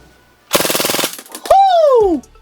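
A Maruzen Ingram M11 airsoft gun fires a fast full-auto burst of about half a second, a rapid loud rattle of shots, followed by a loud whooping voice.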